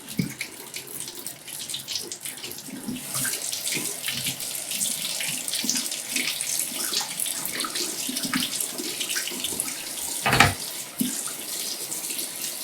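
Bathroom tap running into a sink to rinse during a wet shave with a safety razor, a steady splashing stream with small bursts of handling and water movement, close and continuous.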